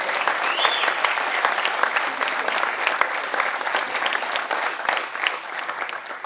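Sustained applause from an audience at a Keflavík football supporters' evening, dense and steady clapping filling the room without a break for several seconds.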